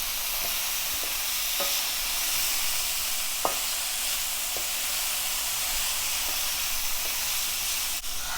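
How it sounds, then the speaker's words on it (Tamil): Cut beans and other vegetables sauté in a hot pan with a steady hiss and sizzle, punctuated by occasional light spatula taps and clicks, and no talking. "போட்டு நல்லா வதக்கிடலாம்."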